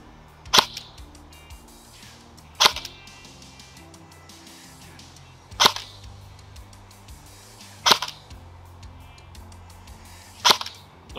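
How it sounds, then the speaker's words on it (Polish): A CYMA CM.045 airsoft rifle fires single shots on semi-auto outdoors, five sharp snapping cracks spaced two to three seconds apart, each close and loud over quiet background. "Strzelam od razu w górną krawędź plandeki."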